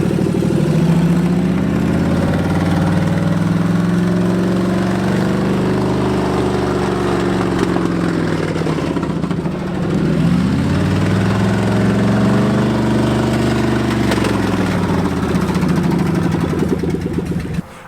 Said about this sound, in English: We really got the engine running